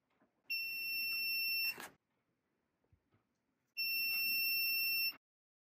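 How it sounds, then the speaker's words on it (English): Two sustained electronic buzzer tones from a DIY metal detector soldering kit's active buzzer, each lasting over a second, separated by a short pause, loud and close with a steady high pitch. "that's causing it to light the LED and to activate the active buzzer."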